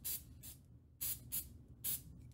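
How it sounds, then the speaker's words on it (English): CA glue activator spray gives short sharp hisses in quick bursts, two close together, a gap, then two more and a final one, close and clear during a Red Hood figure build. "Went to spray it and it shot off the other direction."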